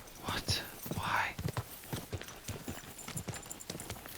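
Horse hooves clip-clopping at a steady ride in Kingdom Come: Deliverance II, a close rhythmic run of hoof falls with game ambience and a voice talking over it.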